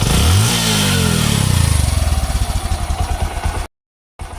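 A repaired Bajaj auto-rickshaw engine, now free of its earlier bad noise, revs loudly up close, then settles into a steady, rhythmic chugging idle with a brief cutout near the end.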